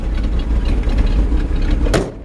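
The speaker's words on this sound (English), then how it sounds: "the little squeakiness of the belt is stealing away from the awesome sound of the exhaust" 1954 Ford F-100 pickup idling cold, a low rumbling exhaust with steady engine chug up close, ending in a brief sharp burst of noise before fading.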